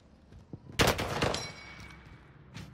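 Gunfire erupts in Call of Duty: Warzone, a sharp burst of rapid shots after a few faint pops, then fading echoes and one more distant crack.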